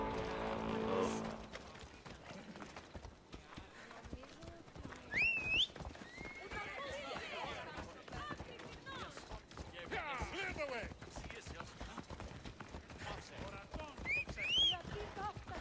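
Horse hooves clip-clop steadily in Assassin's Creed Odyssey, with occasional whinnies and talking layered over the trotting rhythm.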